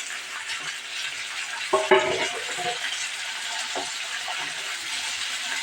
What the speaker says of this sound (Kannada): ಇದೆಲ್ಲ ಸೇರಿಸಿ ಸ್ವಲ್ಪ ಕೆಂಪು ಆಗೋ ತನಕ ಹುರಿಬೇಕು ರೀ